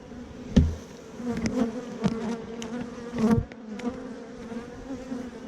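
Honeybees buzz around a hive feeder in a steady, close, wavering drone, with a few louder bumps where bees bounce off nearby.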